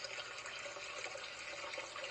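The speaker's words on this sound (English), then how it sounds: "Here's a fountain." A sunrise alarm clock sound machine plays a looping fountain track, a steady, even wash of splashing water at moderate volume with no voices.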